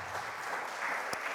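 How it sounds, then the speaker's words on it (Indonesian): A church congregation applauding during a worship service, a steady wash of clapping from many hands throughout, at moderate volume with no voices standing out. "Berikan tepuk tangan buat Tuhan kita."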